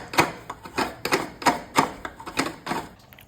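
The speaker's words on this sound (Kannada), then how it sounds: "ಒಂದೊಳ್ಳೆ ಹಸಿ ತೆಂಗಿನಕಾಯಿಯನ್ನು ತಗೊಂಡು ಅದನ್ನೀಗ ತುರಿತಾ ಇದ್ದೇವೆ" About eight rhythmic scraping strokes as fresh coconut is grated, each a quick rasping pass, close and fairly loud, then they stop.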